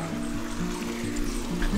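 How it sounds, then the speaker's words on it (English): Spring water trickles steadily and gently over a low, continuous hum, beside an old paper mill water canal in Moravice Nature Park. "We just came to a spring."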